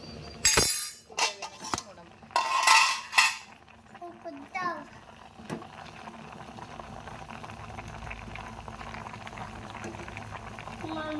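Potatoes boil in a pot in a home kitchen, a steady low bubbling that settles in after a few opening clinks and clatters of pots and utensils, with faint voices in the background early on.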